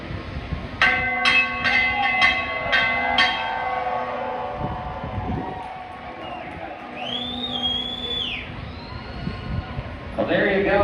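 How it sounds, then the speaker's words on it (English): At Auto Club Speedway in Fontana, California, the victory lane bell is rung: a run of about six bright, ringing strikes with lingering tone, then crowd noise, a passing whine and more clangs near the end. "we ring this bell to signify that we've got someone in victory lane"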